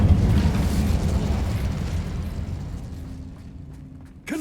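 In Hogwarts Legacy on PlayStation 5, a casting of the Incendio fire spell inside a cave of Ranrock's loyalists. It lands as a heavy, rumbling fiery burst that fades out over several seconds, then a sharp crack closes it.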